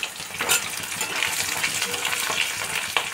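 Crushed garlic drops into hot oil with already-fried cumin in a pan over low heat, giving a steady, close sizzle and crackle with brief stirring scrapes throughout.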